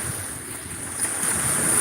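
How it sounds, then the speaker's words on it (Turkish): Ocean waves at Plataria, Greece, wash and surge steadily with wind rushing across the microphone, loud and close, no voices. "Deniz dalgası. Vurun dalgalar vurun."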